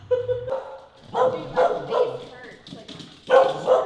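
Several dogs bark and yip in an office, short bursts close by with a break in the middle, while people talk around them.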